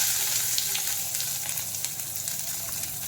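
Onions hit hot groundnut oil already holding mustard seeds and dried chillies, giving a loud, dense, continuous sizzle with faint crackles throughout, close up and without any talking.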